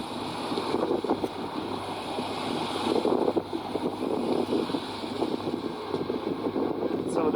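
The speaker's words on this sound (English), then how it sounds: "it just got really windy" Gusty wind buffets the microphone in a continuous roar, with faint background noise and a voice murmuring underneath.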